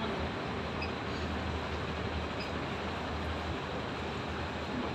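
Motor of a laboratory fermenter's stirring system runs at low speed, a steady, even mechanical hum and rumble with a low drone and no breaks, close and moderately loud.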